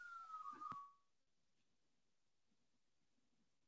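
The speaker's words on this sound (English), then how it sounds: "I had a siren in the background" A siren wails briefly under a faint rising-and-falling tone for about a second, then cuts off into near silence, followed by a sharp click at the very end.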